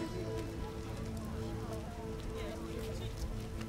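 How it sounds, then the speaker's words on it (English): Steady video game rain patters on surfaces throughout, a dense even hiss with scattered drops, with a voice speaking over it. "A scourge of the Lord's this rain."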